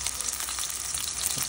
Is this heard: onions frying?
yes